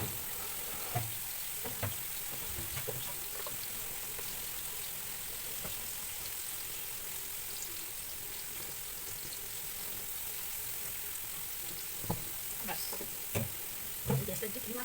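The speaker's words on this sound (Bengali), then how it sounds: "যে ঝুড়িতে দেখলে ওটা হচ্ছে সোনা ভর্তি মাছ, অল্প একটু ছিল, সেটা ভাজতে বসিয়ে দিলাম" Small fish frying in a pan, a steady broadband sizzle that holds throughout with a few faint clicks and knocks, with no talking.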